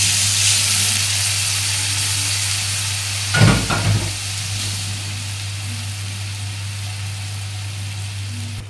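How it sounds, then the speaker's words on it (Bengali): Water poured into a hot pan while cooking chicken, a short burst of hissing sizzle over a steady fry and low hum, then settling back to a gentle continuous sizzle. "এবার দিয়ে দেবো জল।"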